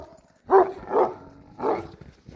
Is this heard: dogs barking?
yes